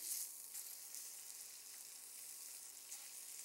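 Scallops sear in an oiled skillet with a soft, steady, high hiss of sizzling that runs unbroken throughout, faint and close, with no voices.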